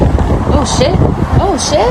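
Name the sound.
strong wind blowing into the microphone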